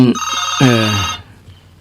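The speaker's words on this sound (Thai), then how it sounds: "ก็มีศรัทธาโทรศัพท์เข้ามา จะได้อู้ได้ ขอรับโทรศัพท์ก่อนเนอะ" A telephone ringtone for an incoming call plays loud and close, a repeating melodic chime that then cuts off, with a little talk nearby.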